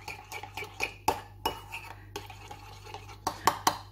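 A utensil stirs sauce in a bowl, making soft scraping and light clinks against the dish, with a few sharper taps near the end, quiet and close.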